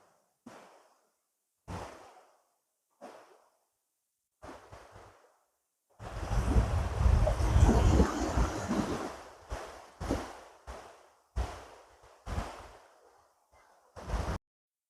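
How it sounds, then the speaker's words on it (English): Gentle ocean waves wash onto a beach in the evening, with one longer rolling surge in the middle and several brief soft swells breaking at intervals around it, separated by near silence. "Very gentle waves this evening."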